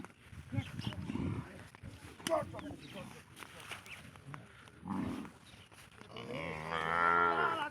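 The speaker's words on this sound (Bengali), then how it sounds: "অনেক সুন্দর সুন্দর পিচ্ছি পিচ্ছি বাছুর" Cattle and calves low and moo several times, ending in a long drawn-out moo, while people talk nearby at a riverside cattle market.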